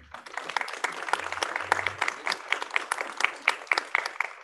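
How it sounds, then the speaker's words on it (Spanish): Applause at a graduation ceremony, moderately distant clapping from an audience, steady and fairly even over a few seconds, with faint voices in the background. "Sellar este momento con un aplauso."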